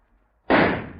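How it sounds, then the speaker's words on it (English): A single firecracker blast from an old radio drama sound effect, sudden and loud after a quiet moment, then a rough crackling decay over about half a second. "That firecracker exploded into thin air."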